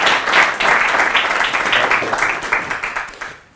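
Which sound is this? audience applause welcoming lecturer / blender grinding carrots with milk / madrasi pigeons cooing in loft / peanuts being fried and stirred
audience applause welcoming lecturer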